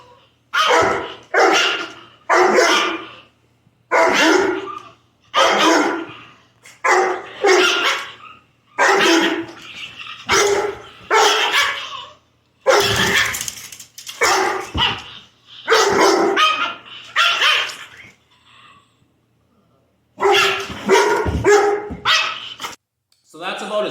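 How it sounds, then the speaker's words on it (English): A bullmastiff barks repeatedly while playing with a miniature pinscher indoors, loud close woofs in short bursts of several barks separated by brief pauses. "if he's playing with another dog and he's all fired up, he'll bark then."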